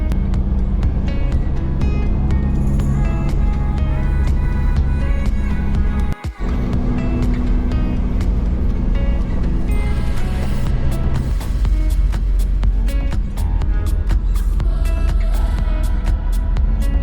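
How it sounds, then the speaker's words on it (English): An off-road vehicle's engine drones loud and constant as its wheels spin in deep snow on a winter trail in Wales. The note strains steadily, with a brief dropout partway through. "Come on, wheels are spinning."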